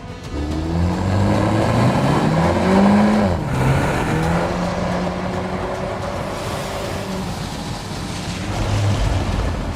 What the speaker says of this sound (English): The drift mode provides a lot of fun and allows the car to drift through torque vectoring.